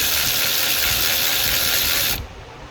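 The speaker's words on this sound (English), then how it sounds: "This will be 10 mils. We'll drive all these out." Power ratchet spinning out 10 mm bolts from the engine cover of a 2012 Acura TL V6, a continuous close, loud whirring buzz that cuts off abruptly near the end.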